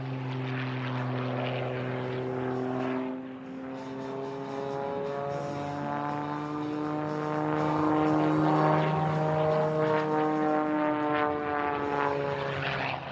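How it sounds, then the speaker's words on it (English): A propeller aerobatic plane such as an Edge 540 or a modified biplane drones at an air show, its buzzing engine note rising and falling in pitch as it passes, fairly loud and steady throughout. "Working her way down is Melissa in her Edge 540 in the Prometheus, highly modified hot rod biplane"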